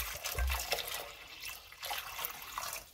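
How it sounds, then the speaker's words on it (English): Water pours into a cooking pot at the start of a butternut squash soup recipe, a steady close splashing stream with no talk. "I'm pouring water."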